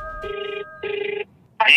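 A phone call rings in two clear, evenly spaced bursts of a warbling electronic ring, close and loud, before a brief sharp noise at the end; nobody speaks.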